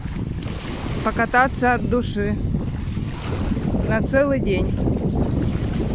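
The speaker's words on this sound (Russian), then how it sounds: "Слышите этот звук волн?" Sea waves at a port in Cyprus, with a steady wash of surf and wind gusting across the microphone while someone speaks over it.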